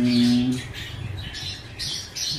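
A pet bird in an aviary gives short squawks and chirps at close range while thread is untangled from its foot, against steady low background noise.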